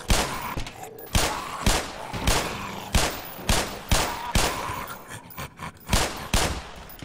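Gunfire at an enemy in the Black Mesa video game: around a dozen sharp bursts of shots, fired in quick uneven clusters, loud and close, with only brief gaps between them.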